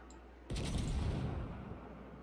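Naval gunfire from a game battle aimed at an enemy battleship: one sudden heavy boom, then a loud, rumbling roar that slowly fades, with no voices.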